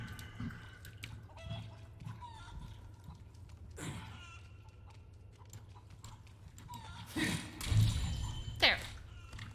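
Chickens in the Resident Evil 4 game cluck in brief, scattered bursts over a low ambient background, with a louder flurry of fowl calls near the end.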